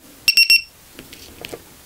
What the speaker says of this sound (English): And when you plug it in, it should sound the alarm